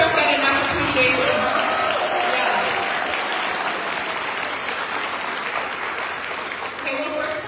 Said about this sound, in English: big round of applause for Alice.